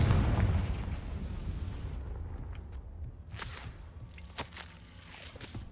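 A Confringo blasting spell exploding in Hogwarts Legacy, opening with a heavy booming blast that rumbles and fades, followed by a few sharp crackling impacts and whooshes.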